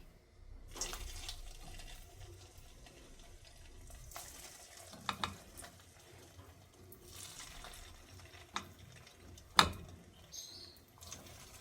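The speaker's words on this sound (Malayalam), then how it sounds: "അപ്പോൾ ഓയിൽ ചൂടായി വന്നിട്ടുണ്ട്. നമുക്കിതിലേക്ക് ഇട്ട് കൊടുക്കാം." Sago vada (chowari vada) batter dropped into hot oil gives a soft, continuous frying sizzle, with a few sharper pops and clinks scattered throughout and no voices.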